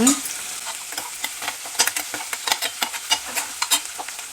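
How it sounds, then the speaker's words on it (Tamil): Plantain frying in a pan with onion, green chili, garlic and mustard seeds, a close sizzle and crackle under repeated sharp stirring scrapes and taps, with no voices. "இது வாழைக்காய் பூண்டு போட்டாச்சு வெங்காயம் பச்சை மிளகா பூண்டு கடுகு போட்டு தாளிச்சாச்சு"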